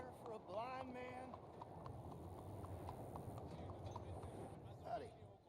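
Horse hooves clip-clop at a steady trot in the Red Dead Redemption game, a soft rhythmic patter running throughout beneath a voice and a brief snort.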